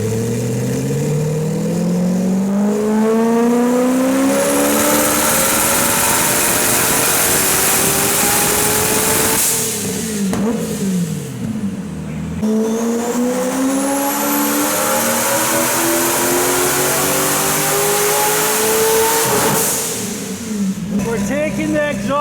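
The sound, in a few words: drift car engine revving with the exhaust removed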